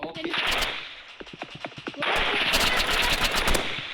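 Rapid bursts of gunfire in the Roblox game Rivals, loud, close, repeated volleys of shots with a brief lull, then a sustained stream of automatic fire, under faint talk.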